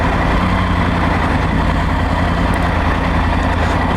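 A Triumph Tiger 900 Rally Pro motorcycle runs in sport mode with a loud, steady engine drone under rushing wind, close and continuous, with no one speaking.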